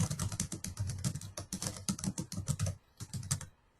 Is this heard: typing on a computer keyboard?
yes